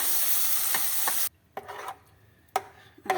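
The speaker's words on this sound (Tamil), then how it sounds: "நல்லா கொதிக்க விடுவோம்" A loud frying sizzle from a pan cuts off abruptly, followed by quieter bubbling and a few soft scraping stirs as a ginger, garlic, mint and coriander paste simmers.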